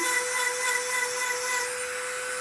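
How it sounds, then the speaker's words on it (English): A Dremel drills through a stone cabochon held underwater on a sponge, a steady high-pitched whine holding constant and close throughout. "So I'll turn off the Dremel here."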